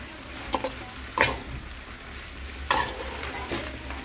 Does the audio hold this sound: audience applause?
no